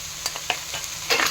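Pumpkin-leaf greens stirred in a hot pan with ground roasted cumin, several quick scraping strokes over a light sizzle, ending in a louder burst of frying.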